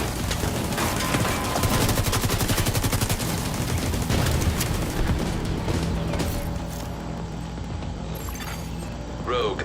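Rogue assault turret firing in The Division 2: rapid, steady automatic gunfire bursts, loud and close, continuing for most of the stretch before easing, with an announcer-style voice line and other game effects over it.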